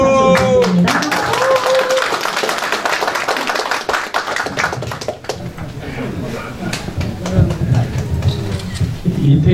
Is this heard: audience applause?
yes